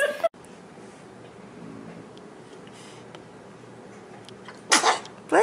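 After a quiet room stretch, a baby lets out a couple of short sneezes close by near the end, with faint background hiss before them.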